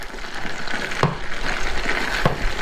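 Double cream is stirred into a sizzling Steak Diane pan sauce: constant close frying hiss with two distinct spoon scrapes against the pan.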